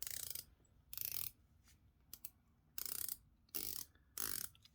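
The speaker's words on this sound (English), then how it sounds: "So quite a loud clicky bezel." Rotating bezel on a SteelDive dive watch homage, heard close up as loud bursts of rapid ratcheting clicks in five separate turns with quiet gaps between them.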